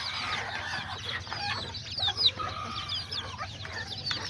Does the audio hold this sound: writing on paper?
no